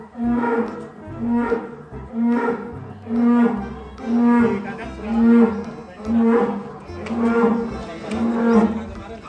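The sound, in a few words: cow named Panda mooing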